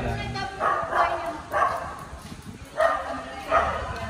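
Several dog barks and yips come in separate bursts, a few at a time, against a noisy outdoor background with some voices.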